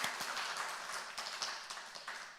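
Church congregation applauding at a Sunday afternoon service, a steady patter of many hands clapping at moderate distance, fairly soft and continuous for a couple of seconds.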